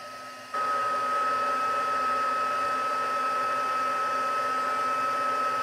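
A heat tool blowing hot air onto a paper label for handmade card making switches on and runs as a loud, steady whirring drone with a constant whine.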